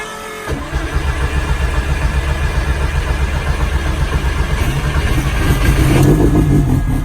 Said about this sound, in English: So you turn the key on, give the car power.